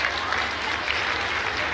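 Audience applause filling a hall during a group closing ceremony of a Shraman culture training camp at Manas Bhavan in Damoh, a steady dense wash of clapping held for the whole stretch with no gaps.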